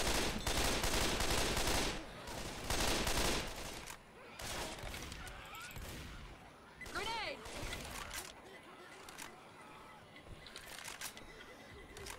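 Gunfire in the video game Left 4 Dead 2, dense bursts of shots in a few clusters mixed with game noise, while players talk excitedly over it.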